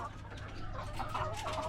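Laying hens kept in a backyard home setup cluck softly and continuously, close by, in a short stretch with no talk.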